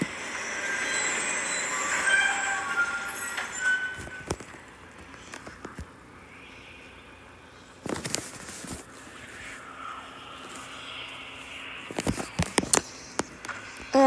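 A train rolling along in the video game Bendy and the Ink Machine, a steady loud rumble with squealing wheels and clattering bursts that come and go, no talking over it.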